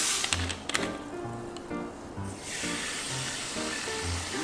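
Carbonated soda poured over ice in a glass for a passion fruit sour, a steady bright fizzing hiss that swells midway and carries on, with faint background sounds.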